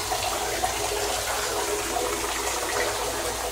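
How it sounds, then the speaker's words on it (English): A bathtub tap runs with weak water pressure, giving a steady close gush of water that stays even throughout, with no talking over it. "See, like half my water is still coming out."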